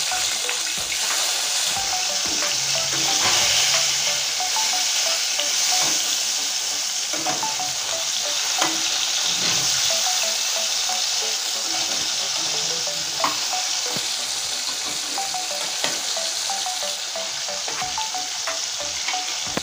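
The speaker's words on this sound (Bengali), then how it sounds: "দেখুন লাল করে ভেজে নিচ্ছি।" Rupchanda (pomfret) fish frying in a pan until reddish-brown, a steady close crackling sizzle with scattered pops and spatter running throughout, no voices.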